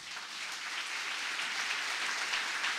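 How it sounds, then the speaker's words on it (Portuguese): Audience applause at a church sermon, a steady dense wash of many hands clapping together, sustained and fairly loud with no pauses and no voices over it. "E aplauda bem forte Ele."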